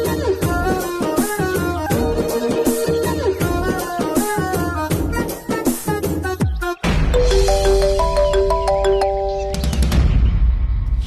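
An incoming call sets off a phone's melodic ringtone during a Kannada TV serial scene. Its bright repeating tones ring out loudly over busy background music, which cuts off abruptly shortly before the ringing begins.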